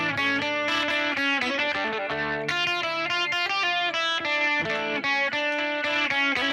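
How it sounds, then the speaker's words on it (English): An electric guitar plays through a light, edge-of-breakup distortion, neither crunch nor fuzz. It sounds as a steady run of ringing chords and notes, close and even, with no voices. "I gave it this is in the distortion, but it's not crunch. It's not fuzz."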